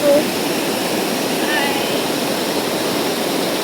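Steady broadband rush of a waterfall on Kauai, Hawaii, heard from nearby as a constant roar with no pauses, holding an even level throughout.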